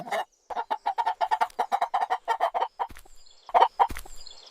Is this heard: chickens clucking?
yes